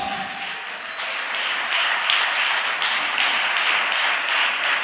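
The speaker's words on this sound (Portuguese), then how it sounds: "Aplauda o nome dEle," A church congregation claps during a worship service, a steady broadband patter of many hands close by that swells slightly and holds for about five seconds, with no voices over it.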